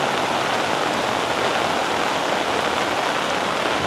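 Heavy rain falls in a dense, unbroken hiss, loud and close, with no voices.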